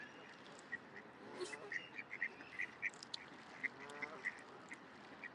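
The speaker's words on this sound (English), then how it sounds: "All the birds are coming to me now." Ducks quack repeatedly at a park pond in Queen's Park, Longton, Stoke-on-Trent: short, scattered calls over steady outdoor background noise, faint and somewhat distant.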